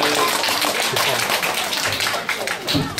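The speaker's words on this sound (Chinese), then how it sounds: "掌声鼓励。" An audience applauding a child at a science demonstration, dense clapping from a room of people close by, lasting a few seconds.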